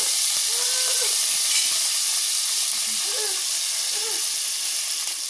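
Onion, curry leaves and coriander sautéing in hot oil for a Kerala-style chicken gravy, a steady close hiss and sizzle throughout with a few faint tonal squeaks mixed in.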